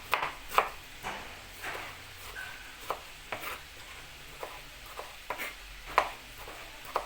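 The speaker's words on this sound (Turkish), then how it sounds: "Domatesleri de aynı. Küp küp doğradım." Knife dicing tomatoes into cubes on a cutting board in irregular, fairly quiet strikes, some quick doubles, with faint clatter between cuts and no voices.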